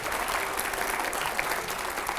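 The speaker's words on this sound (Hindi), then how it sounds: "जोरदार तालियां हो पहले।" Studio audience applause at a televised talk show, dense and steady clapping from a large crowd filling the whole moment without a break.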